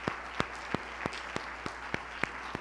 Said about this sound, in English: Let's give him another round of applause for his ongoing support for us.